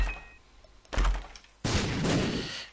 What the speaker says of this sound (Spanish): Venga, hay explosiones.